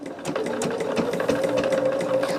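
A sewing machine runs steadily, stitching a corner square onto a quilt piece, with a continuous close mechanical whir and fast needle rhythm and no talk over it.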